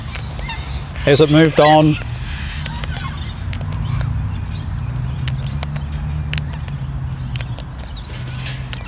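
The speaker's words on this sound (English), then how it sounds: "Has any sort of an annoyance arisen because of all of the noisy birds?" Noisy birds in breeding season, a loud goose-like honking burst of several calls up close, then quieter background bird and rustling sounds, with a voice speaking briefly.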